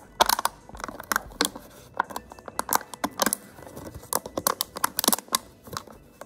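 Scissors cutting open a plastic bottle, a rapid uneven run of sharp crinkly snips and crackles close by, no talking.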